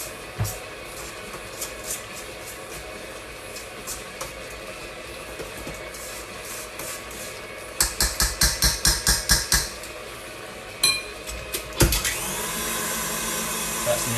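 An electric mixer whips a sticky toffee pudding mixture with a steady whirring hum, then a run of rapid knocks and scraping bursts as the bowl is worked, close by with no talk.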